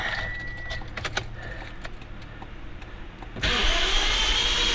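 A 2008 Toyota Altis with no compression, stalled on an expressway and fed by a swapped battery, jingles its keys before the starter begins a loud, steady crank that never catches.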